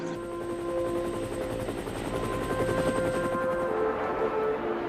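A helicopter stationed at a Korean War field hospital gives a steady rotor chop and a whining engine hum, continuous and moderately loud, with no voices.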